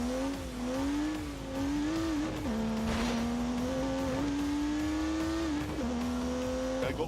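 Turbocharged 3-litre straight-six car engine in The Grand Tour video game, a loud sustained rev whose pitch climbs and drops through several gear changes, close and continuous with no talk over it.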